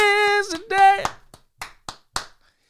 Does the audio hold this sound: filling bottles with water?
no